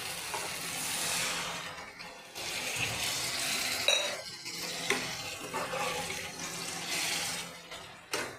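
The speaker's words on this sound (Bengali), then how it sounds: "এবার আমি জল দিয়ে দিচ্ছি।" Water poured into a pan of Bengali egg curry (dimer dalna) makes a rushing, splashing burst over sizzling, with brief pauses and stirring clatter between pours.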